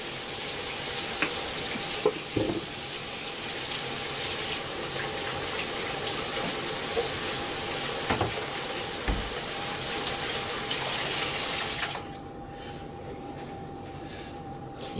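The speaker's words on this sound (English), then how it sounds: "And wash the hands." Steady rushing hiss of tap water running over hands in a home kitchen while cooking a spinach bacon chicken pasta, continuous and close for about twelve seconds before the flow stops.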